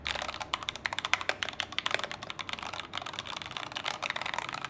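Typing on a Rexus Daxa mechanical keyboard fitted with an acrylic case, giving a steady run of close, fairly muted keystrokes with no talking.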